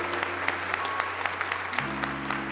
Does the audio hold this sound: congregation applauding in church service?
yes